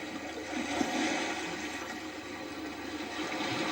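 Sea water gurgles and rushes through a gap between rocks on an Estonian shoreline, a steady, muffled watery churn heard close by and fairly quiet, with no talking.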